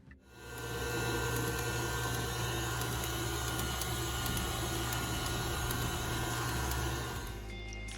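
An electric mixer whirs steadily for several seconds as it beats vanilla pound cake batter in a bowl, then cuts off near the end, leaving a continuous loud motor drone with no talk.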